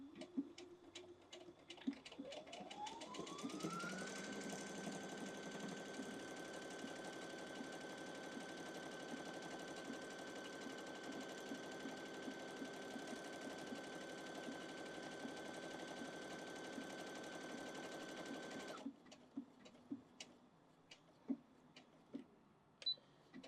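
A BabyLock Jubilant BL80B sewing machine stitches out a buttonhole. Its motor winds up into a steady, close whir with a fast stitching patter that runs for about fifteen seconds, then stops, leaving a few scattered ticks and clicks.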